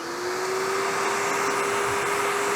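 A 3M Extract dust extractor vacuum runs steadily on its own, a constant airy roar with a faint motor whine held at one pitch throughout, fairly loud and close.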